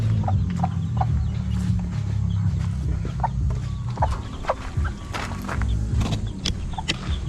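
Young chicks and chickens in a Philippine backyard poultry setup cluck and peep continuously, with sharp chirps scattered over a steady low murmur of the flock, close and moderately loud.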